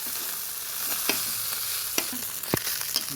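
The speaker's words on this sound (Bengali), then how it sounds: "কাকি মাছ ভাজা হচ্ছে" Taki fish frying in a pan for a Bangladeshi fish bhorta hisses with a constant close sizzle, broken by occasional sharp pops and spatters, with no voices.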